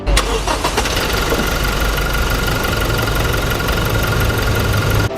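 A Toyota Hilux Revo 2.4 diesel pickup from 2022, an Entry Z Edition, cranks and fires at once, then settles into a loud, close, steady knocking idle that runs for several seconds.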